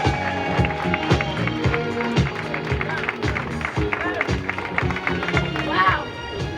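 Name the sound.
crowd applause for youth speaker at vigil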